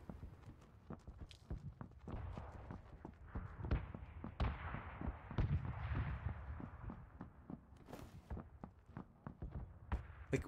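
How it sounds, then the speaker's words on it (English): AK rifle gunfire in a video game: a rapid, uneven string of sharp shots cracking through the clip, moderately distant, with no voices over it. "It's an AK."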